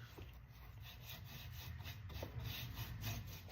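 Aging wax being rubbed by hand onto a painted thrift store piece, a continuous soft rhythmic scrubbing rasp against the wood surface, close and quiet, with no talking.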